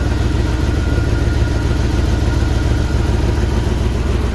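A 1979 Jeep Cherokee engine, long left sitting in the woods and barely kept alive by its carburetor, runs close and loud with a steady, rough idling rumble throughout.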